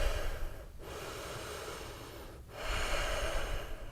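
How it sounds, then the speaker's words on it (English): Deep, audible breaths drawn in and pushed out during a continuous yoga flow, two slow breath cycles close to the ear with brief pauses between, no talking. "2 more deep breaths"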